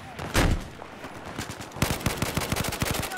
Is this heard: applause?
no